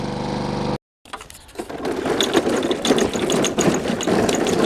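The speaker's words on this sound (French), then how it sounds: "Et on est parti pour la tonte." A steady low engine hum cuts out abruptly, then a petrol mower motor rattles back up and runs loudly and continuously.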